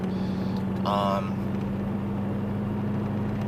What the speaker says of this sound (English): straight pipe 3-inch from the primary cats all the way back